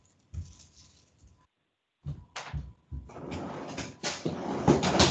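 In a home kitchen during a cooking demo, a fridge door is handled with a soft knock and clunk, then rustling and bumping of bagged dough and containers being put inside, close and fairly quiet.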